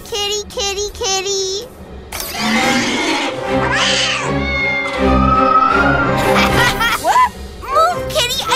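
A cartoon cat meows repeatedly in a children's animated series, with drawn-out, pitch-bending calls and yowls mixed with character voices and background music.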